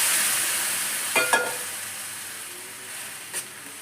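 Cooked noodles are stirred into a sizzling masala for cheese noodles. A soft frying hiss runs throughout, broken by a few brief scraping clacks of the spoon against the pan.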